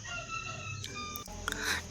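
Lohmann laying hens, egg-laying chickens, clucking and crowing up close on a farm, with several short, bright squawks and calls over a soft, busy background.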